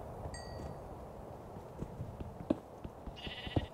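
Sheep bleating in the Minecraft game, a couple of short nasal bleats at close range among faint clinks and game sounds, fairly quiet overall.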